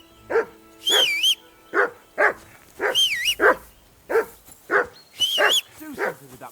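Steady, loud barking from a dog in the medieval role-playing game Kingdom Come: Deliverance II, a dozen close barks in a quick rhythm, mixed with higher whistling or whining tones between some barks.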